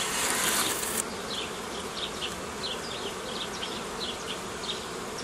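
Honeybee colony in a vertical hive during frame work, a dense continuous close buzz of many bees, with individual bees droning past in short passes.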